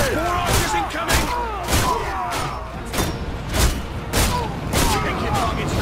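Archers loose a volley during a battle in the video game Ryse: Son of Rome, with repeated heavy thumps and booming impacts over a busy battlefield din, loud and close, while voices shout commands.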